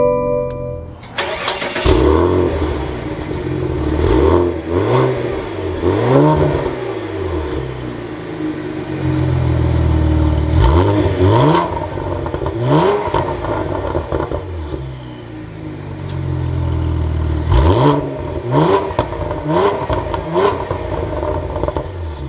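A 2022 Cadillac CT4-V Blackwing starts with a crank and a loud flare. The engine then revs repeatedly, rising and falling several times over a burbling idle, heard close from inside the car.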